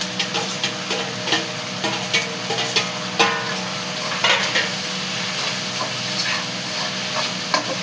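Okra and chicken fry in a pan with a steady sizzle and hiss, broken by repeated scraping and stirring clicks that sit close and fairly quiet.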